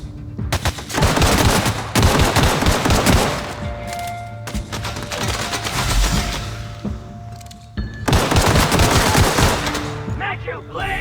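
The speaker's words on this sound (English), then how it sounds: "Getting shot up like crazy" Gunfire in The Outer Worlds on Switch: dense, sustained bursts of shots crackle almost continuously, pausing briefly around the middle before resuming loud and close.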